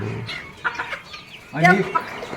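Free-range desi village hens in a pomegranate orchard give short soft clucks and a louder burst of cackling notes, close by, while a person talks nearby.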